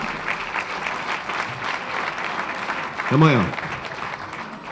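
Audience applause at an equestrian driving-sport event honoring the national carriage-driving coach, a steady broadband clatter through most of the stretch while someone speaks briefly over it.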